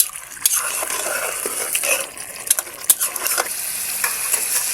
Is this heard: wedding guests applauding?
no